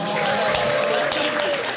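Guests at a wedding reception clap for the groomsmen, a full, continuous burst of applause from a crowded room with a faint tonal hum or voice running underneath.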